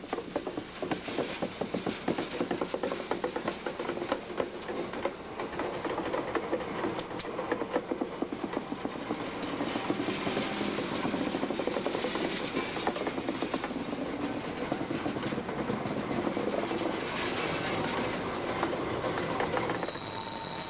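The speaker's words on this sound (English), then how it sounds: "the only thing to be heard is the creak of steel wheels on steel rails" A slow coal train's steel wheels creak and squeal against steel rails on a sharp curve and grade, with steady clicking and grinding mechanical noise continuing for about twenty seconds, no voices present.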